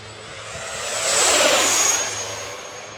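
An E-flite F-16 Thunderbirds 70mm electric ducted fan RC jet races down the runway on takeoff, its high whining fan swelling loudly as it passes close by, then fading.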